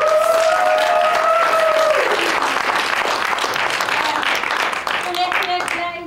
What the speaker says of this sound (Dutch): Nog een keer een groot applaus.